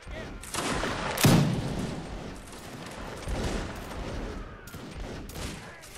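Musket volley fire rings out in a Napoleonic Wars line battle in Mount and Blade Warband, a sharp close crack followed by a dense, rolling spread of shots over continuous battlefield noise.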